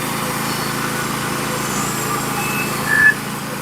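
A Norwood HD36 bandsaw mill, running on new roller guides, saws through a big black locust log with a steady engine drone and band whine, plus a brief louder surge near the end, no talking.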